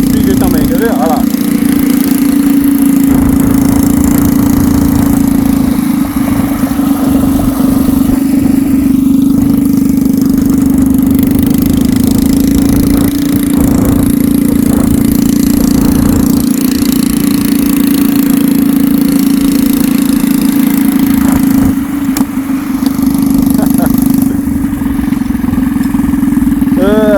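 A small stationary engine drives a motorized skateboard, droning steadily and loudly at idle-like pace throughout with little change, while people talk over it now and then.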